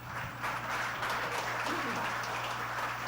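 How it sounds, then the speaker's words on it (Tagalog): An audience claps at a certification awarding ceremony, a dense, even wash of applause held throughout with a low steady hum beneath it and no clear break. "Hindi po bawal ang pumalakpak."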